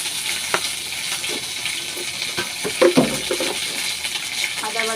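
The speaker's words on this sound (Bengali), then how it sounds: "আদা বাটাটা দিয়ে দেবো।" Ginger paste hits hot oil that already holds dried red chillies, setting off a loud, close crackling sizzle with bursts of spattering and a few stirring scrapes.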